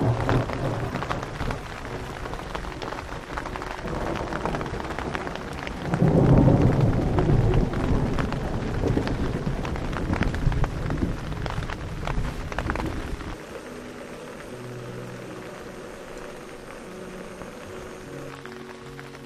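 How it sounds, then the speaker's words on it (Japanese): Torrential rain beats on a tent at a campsite while thunder rolls and rumbles, with a loud, deep crack swelling near the middle before the storm settles back to steady rain. "雷はね、相変わらずずっと鳴り響いてますね。"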